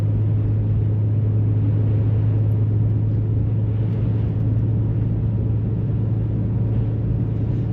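A vehicle climbing a curvy mountain road in four-wheel drive, a loud steady engine and road rumble with a constant low hum, close and unbroken throughout.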